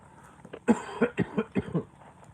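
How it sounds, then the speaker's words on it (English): A person coughs several times in a quick, hoarse series, close to the microphone, with a quiet pause before the first cough. "I got a cough"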